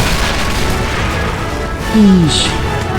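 A single deep boom from a toy war game battle during a siege, landing near the two-second mark over a steady rumbling background of fighting, followed by a brief whistling tone.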